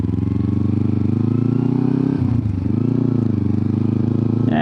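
A motorcycle pulls away in first gear, its close engine giving a loud, pulsing throb that dips briefly midway and then keeps chugging steadily.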